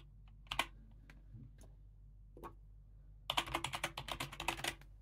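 Typing on a computer keyboard while entering a username and password during Raspberry Pi setup, a few isolated key taps followed by a quick burst of rapid clicking close to the microphone, with no talking.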